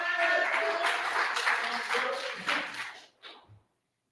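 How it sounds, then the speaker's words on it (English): Congregation clapping in a church ministry service for a young woman, a few seconds of dense applause with voices mixed in, tapering off abruptly into near silence with a couple of stray taps. "Y'all give Brooke a round of applause"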